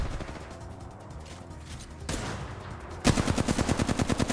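Gunfire in Apex Legends: scattered shots at first, then a loud rapid automatic burst of evenly spaced close shots in the final second, with no talk.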